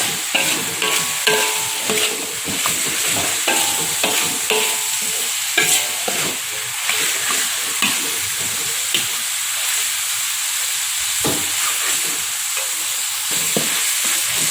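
Sliced spring onions fried in oil and stirred for nasi minyak, a loud crackling sizzle broken by repeated scraping knocks of the utensil against the pan, near and continuous with no speech.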